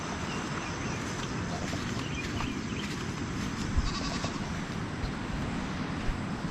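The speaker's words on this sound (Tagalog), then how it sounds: "may naririnig akong kuan huni ng kambing" A goat long loose from its pasture bleats somewhere amid a busy outdoor field, its calls faint and distant against broad steady background noise, with a brief louder thump midway.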